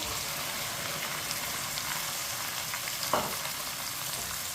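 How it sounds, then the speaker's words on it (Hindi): Cut okra frying in a pan gives a steady, close hiss and sizzle of hot oil, with a single short clatter about three seconds in and no voices. "कटी हुई भिंडी डाल लेंगे"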